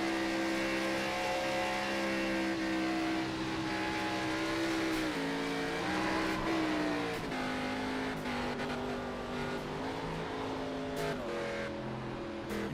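A GTR race car in a sim racing series at Homestead runs with a failing engine after hitting the wall, its harmonic engine drone wavering and dipping in pitch, heard on board with faint tire noise.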